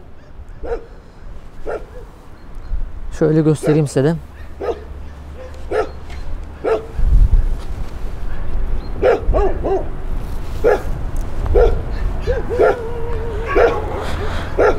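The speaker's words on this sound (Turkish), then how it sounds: "Şu an köpekler sesimizi duyduğu için havlamaya başladılar." Several stray dogs bark and yip nearby at an old garbage dump in Edirne, some whimpering, with a person speaking briefly and a low rumble in the background.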